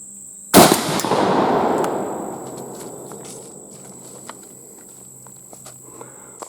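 A single loud, close blast from a Browning Maxus II shotgun firing Spectra Steel number 2 shot through a modified choke outdoors, its boom decaying over a couple of seconds, followed by faint scattered clicks.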